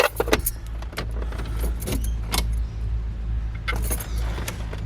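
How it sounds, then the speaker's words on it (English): Car keys for an AE92 Levin jangle and clatter close by in bursts of bright metallic rattling, over a low steady hum inside the car. "I don't know where I've just tossed my keys"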